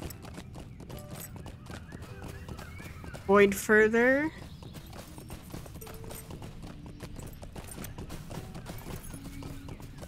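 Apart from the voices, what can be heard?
horse hooves galloping in video game Lord of the Rings Online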